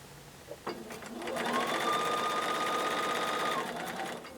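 Sewing machine stitching two quilt fabric pieces together for a frayed four patch block, a steady close whirring run of about two seconds after a couple of soft handling clicks.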